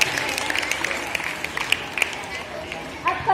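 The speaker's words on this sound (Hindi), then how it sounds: "इसके लिए भी जोरदार तालियां" An audience at a school prize ceremony claps for a student winner, a steady patter of applause of moderate loudness with a few sharper claps, and a voice briefly heard near the end.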